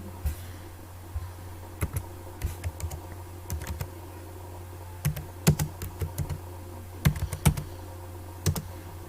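Someone types details into an online account sign-up form on a computer keyboard, with irregular clicking keystrokes in bursts and pauses, close and fairly crisp over a low steady hum, with no talking.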